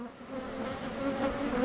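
Honeybees hum in a steady, close buzz as a queen flies up out of her cage beside an opened hive super, the drone holding continuously with no talking.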